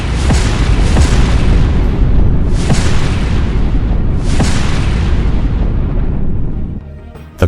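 A FAB-3000 three-ton gravity bomb explosion rumbles loud and continuous, with several rolling booms and deep sustained roar that fades near the end.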